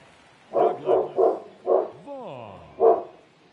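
A dog barks five times in close, loud woofs with a short whine between them, alone with no talk over it.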